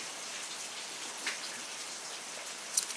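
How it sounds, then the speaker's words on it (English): Rain falls steadily on a cool, rainy day, an even soft hiss with a few sharper drop ticks, heard alone without talk. "It is a lovely, rainy, cool day here finally for a change."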